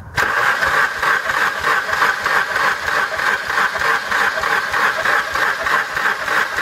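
A wagon's engine cranks steadily during a cylinder compression test, a continuous, even churning rattle that runs unbroken for several seconds, loud and close, with no voices.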